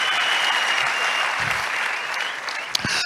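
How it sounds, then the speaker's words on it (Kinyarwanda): A church congregation claps loudly and continuously, a dense wash of many hands that holds steady throughout, with faint voices mixed in. "reka dukomere Imana yacu amashyi cyane"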